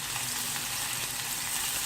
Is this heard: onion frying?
yes